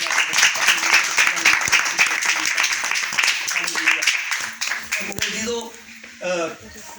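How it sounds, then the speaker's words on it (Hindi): A church meeting audience claps loudly in a dense burst that thins out toward the end, where a voice begins speaking. "उसके लिए एक बार जोरदार तालियां।"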